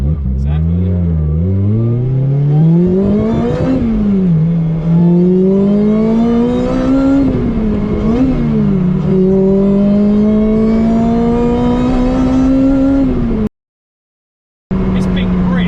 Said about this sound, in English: Oh, this is a pretty special car, this.